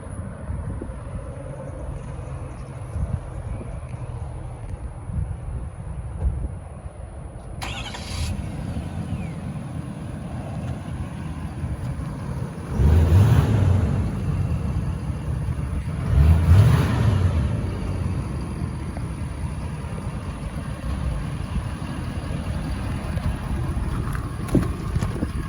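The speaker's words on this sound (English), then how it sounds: "Now I'm gonna hop on inside this 4-wheel drive turbo diesel F250 LARIAT. We're gonna cold start her up." Cold start and idle of a 2023 Ford F250 Lariat Super Duty 4x4 with a 6.7L turbo diesel: a low, steady rumble under wind noise, with two louder surges partway through, then settling back to an even idle.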